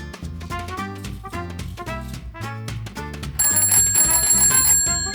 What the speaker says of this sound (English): That's just like my bicycle bell